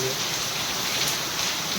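Heavy monsoon rain driven by strong wind in West Central India makes a steady, close hiss with no breaks, dense and even throughout.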